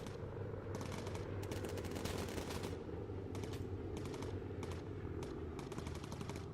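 Machine gun fire in the Bomber Crew video game, rapid bursts of gunshots over a constant low droning aircraft engine hum, fairly faint with short gaps between bursts.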